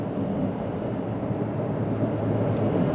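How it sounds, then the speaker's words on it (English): A worn rear wheel bearing on a 2001 Subaru Forester AWD wagon gives a continuous low droning hum blended with road rumble while driving. The sound is steady and unbroken, with no talking. "I do hear a bearing noise in the back of the car."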